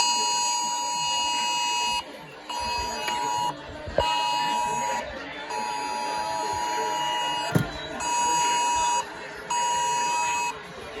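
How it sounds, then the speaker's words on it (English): An Emergency Alert System tone plays during the 2023 national test: a loud, steady electronic buzzing alarm with stacked harmonic tones, broken into segments by brief gaps and a few clicks. "National EAS Test to go off any second now."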